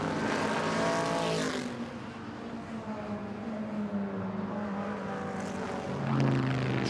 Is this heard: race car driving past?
yes